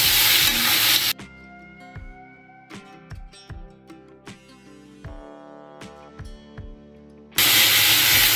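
Mixed vegetables with green chili and ginger are stirred in a pan for a halwai-style mix veg curry. Fairly quiet scraping and clinking sits under a light sizzle, set between two loud bursts of hiss at the start and end.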